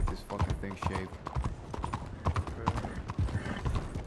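Horse hooves clip-clop steadily in Red Dead Redemption 2, a quick continuous rhythm of close, fairly faint hoofbeats, with occasional voices and game sounds in the mix.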